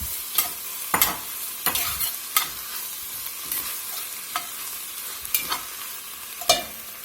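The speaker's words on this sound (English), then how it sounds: "I got a little olive oil in the pot there, and we got a bell pepper and about a half an onion going in." Chopped bell pepper and onion sizzle steadily in olive oil in a pot, with a utensil stirring and clattering against the pot every second or so.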